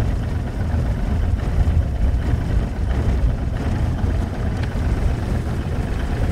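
Outboard engine of a restored Bass Cat bass boat running in reverse on the water, a steady, loud, continuous motor drone with water churn and no pauses.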